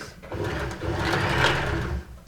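A sewing machine runs in one continuous burst, its fast, even whirring close and steady, stitching a lips-shaped welt pocket on a jacket before the motor slows and stops.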